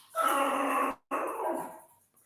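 A dog lets out two drawn-out, growly barks or howls, close and fairly loud, separated by a brief pause, with no talking.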